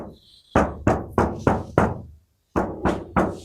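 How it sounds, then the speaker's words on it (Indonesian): Heavy rain drums hard on the roof of a Daihatsu Terios cabin, heard from inside as a series of loud, hollow, tinny thuds in uneven bursts with a brief silent gap. "suara road noise pada saat hujan deras itu bantingannya seperti ini ya."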